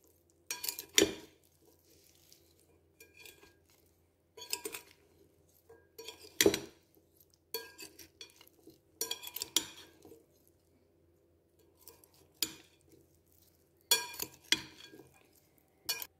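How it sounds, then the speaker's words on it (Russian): Bean salad dressed with oil and gently mixed in a bowl, with intermittent clinks and scrapes of a utensil against the dish separated by quiet pauses. "Осталось полить салат вкусным ароматным маслом и аккуратненько перемешать."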